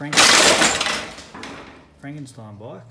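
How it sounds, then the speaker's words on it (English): A loud metallic crash and clatter of a Honda CT110 motorcycle falling off a lift, followed by rattling debris, then someone speaking briefly. "that was the sound of the bike falling off the lift"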